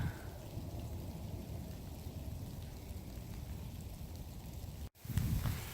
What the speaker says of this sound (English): Well, the rain started.